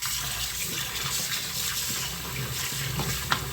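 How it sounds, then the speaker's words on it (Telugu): Half a kilo of fish pieces being washed with salt in water, a steady close splashing and running-water wash with a couple of faint knocks, no voices. "ఇప్పుడు వీటిని 2 టీ స్పూన్స్ సాల్ట్ని యాడ్ చేసుకొని 2 సార్లు శుభ్రంగా కడుక్కోవాలి"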